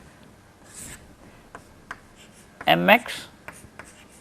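Marker or chalk strokes on a board during a helicopter aerodynamics lecture, a scratchy burst of writing rising briefly between quiet gaps, near and moderately loud, with faint speech around it.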